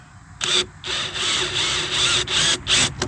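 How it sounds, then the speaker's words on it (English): A power drill whirs in several short bursts, countersinking a screw hole partway into wood for a trap door, with brief pauses between, close and fairly loud. "Just drill part of the way through"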